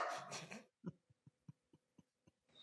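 A dog gives a series of short, soft, evenly spaced barks or yips, about eight quick pulses, heard close and quiet after a brief burst of noise.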